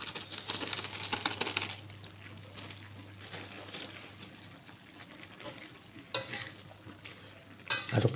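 Bitter melon is stir-fried in a pan, a low steady sizzle under repeated stirring scrapes and clinks of the utensil, busier at the start and in short louder bursts near the end.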